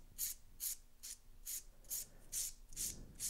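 Acrylic-gel hybrid nails filed into an almond shape with a hand file, giving about eight evenly spaced, faint raspy strokes in a steady back-and-forth rhythm with no talk.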